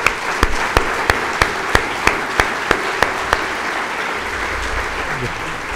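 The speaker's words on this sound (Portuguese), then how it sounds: "Uma salva de palmas, por favor, a todos" Applause from the audience at Prof. João Serra's retirement last lecture, with a few sharp, evenly spaced claps standing out over a dense wash of clapping that fades toward the end as a low rumble comes in.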